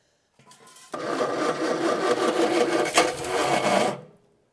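A 1965 barn find engine cranks on its first start attempt in over 40 years, turned with a flathead screwdriver in place of a key: a brief click, then a loud rapid mechanical churning for about three seconds before stopping.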